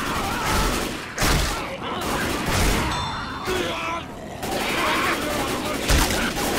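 Heavy shotgun blasts and other gunfire in a Left 4 Dead 2 multiplayer match, several loud close booms over a dense, noisy game background with voices talking.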